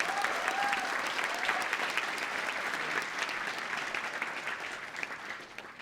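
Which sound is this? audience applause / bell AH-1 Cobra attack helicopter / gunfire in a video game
audience applause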